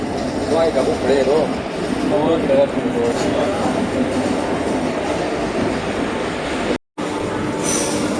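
The Tirupati Express rolls into Rajkot Junction in the early morning, wheels rumbling and squealing on the rails as a voice speaks over the train noise, with a brief dropout near the end.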